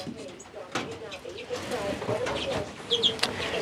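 Pigeons or doves cooing in an outdoor aviary, soft repeated coos and a few chirps layered under nearby talking, moderately close and fairly quiet.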